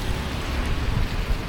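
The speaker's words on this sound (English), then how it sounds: "Of course the rain has eased off a bit," Rain falling outdoors in Chiang Mai during flooding, a dense, steady hiss of drops with low rumbling undertones, close and continuous.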